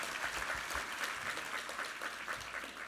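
Church congregation applauding after a Sunday sermon and prayer at a Korean church: a steady, dense wash of clapping from many hands throughout, moderately loud and alone with no talking.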